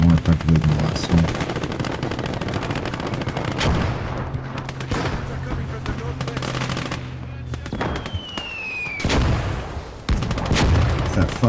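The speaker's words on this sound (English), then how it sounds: "this goddamn mortar is fucking shooting at this tank, and he's killing my own guys" Mortar fire aimed at a tank in the WWII game Gates of Hell: Ostfront, heavy booms amid dense, loud, continuous machine-gun and rifle fire, with a shell whistle near the end.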